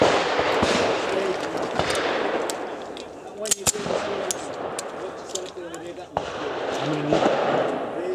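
Shotguns fire at a Movember charity clay shooting event, with sharp outdoor bangs over steady background noise while people talk nearby.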